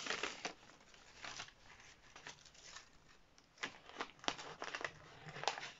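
Jersey fabric at a dress neckline facing being folded and handled up close, giving soft crinkling and rustling swishes in uneven bursts, quiet and with no speech.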